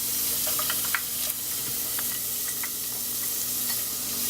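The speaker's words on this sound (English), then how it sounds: "put some olive oil in, that on a low heat, and put our onions in." Onions fry in olive oil over low heat in a large saucepan, a quiet steady sizzle and hiss with a few light stirring clicks and scrapes, close by and without speech.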